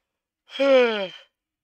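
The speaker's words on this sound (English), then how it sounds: "I yawn because I'm tired of it." A single person's drawn-out yawn, a breathy voiced sound lasting under a second that falls in pitch, alone in silence.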